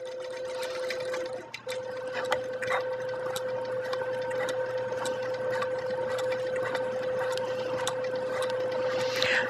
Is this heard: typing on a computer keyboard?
no